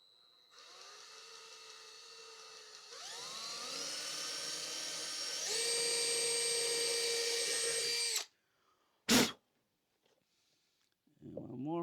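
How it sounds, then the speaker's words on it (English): A drill bores holes in a miter saw cart, its motor whining up in rising steps for about eight seconds before cutting off, followed by one short burst. "I can drill my holes."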